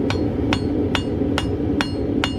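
A farrier strikes the corner of an anvil with the peen of his hammer while shaping a horseshoe for a dressage horse. There are six sharp, ringing metallic blows at a steady rhythm, close and loud over a low background hum.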